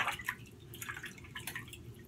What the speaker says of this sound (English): just going to put the brush in this and drop a little bit of water in on top